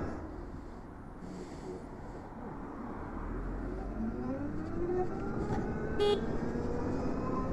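A car horn honks over steady road traffic noise at a crossing with a tractor, with engine rumble throughout and a short sharp toot near the end.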